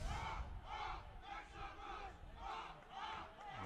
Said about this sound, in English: Oh, you can hear the crowd on that far side.